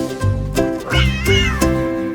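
A cat meows several times in quick succession, loud and close, in a children's nursery rhyme song with music playing underneath.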